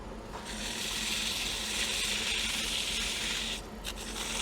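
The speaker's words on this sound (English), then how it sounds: "we're going to hit that with some sandpaper, guys. With this one, we are going to start with our 80" Coarse 80-grit sandpaper rubs against a wooden bowl on a lathe, producing a continuous, even hissing scrape that holds steady throughout and ends with a few brief scuffs.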